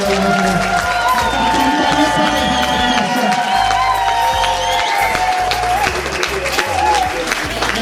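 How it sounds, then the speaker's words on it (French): A large audience at a church healing service applauds and cheers continuously, loud and dense, with shouts rising over steady clapping and a voice talking over the crowd. "Regardez comment vous acclamez"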